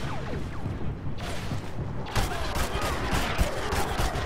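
Slow, tapped shots from a weapon in the video game Star Wars Battlefront, several loud reports in a busy mix of battle noise and mechanical clatter.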